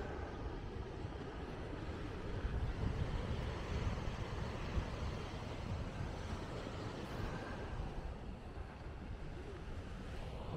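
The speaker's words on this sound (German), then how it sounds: "Ja, leichter Wind hier oben," A light wind blows steadily outdoors high up at Maspalomas on Gran Canaria on a hot day, a continuous rushing wash with soft gusts and buffeting against the microphone, with no voices.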